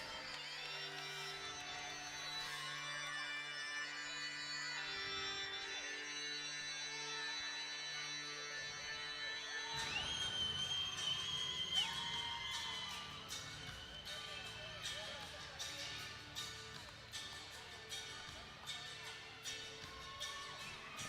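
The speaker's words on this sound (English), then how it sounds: "here comes Jesse Hannam's music and the Hannam crowd making some noise" Entrance music with a sustained tonal melody plays at a regional MMA event, TRU REV 33, as the crowd cheers Jesse Hannam's walkout; the noise swells louder and busier around the midpoint, with bursts of cheering and shouts over the music.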